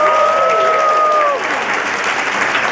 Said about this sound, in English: a big round of applause for Journey